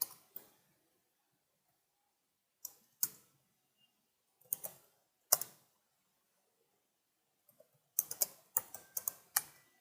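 Scattered bursts of keystrokes on a computer keyboard as Java switch-case code is typed, with quick clusters of clacks separated by silent pauses, close and fairly crisp, with no talking.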